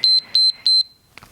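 A workout interval timer gives three loud, evenly spaced high-pitched beeps, then falls quiet except for a faint rustle.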